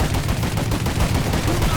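Loud, continuous automatic gunshots in a Mafia 3 shootout inside a building, dense overlapping bursts filling the whole stretch without a break.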